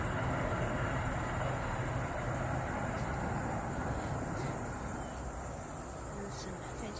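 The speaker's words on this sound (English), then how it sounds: "See the train over there in the distance." A distant train rumbles faintly and steadily at a waterfront in Joppa, Maryland, partly buried under a constant shrill chorus of insects and outdoor wind noise.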